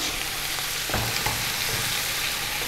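Steady, loud hiss of green chili frying in hot oil, with a few soft stirring knocks partway through and no voices.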